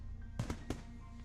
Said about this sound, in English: Lily can't watch the fireworks with her eyes closed.